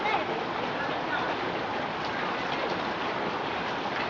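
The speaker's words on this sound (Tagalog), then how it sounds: "Malakas na ulan, Jigel." Heavy rain pours down during a flood in a steady, dense hiss that stays loud and unbroken throughout, with no pauses or distinct drops standing out.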